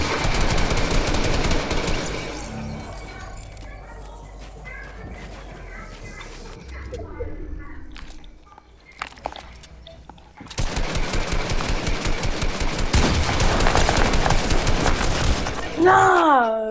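Rapid bursts of gunfire in a Fortnite box fight, with loud dense rattling at the start and again near the end and a quieter stretch of scattered pops in between, under a voice talking.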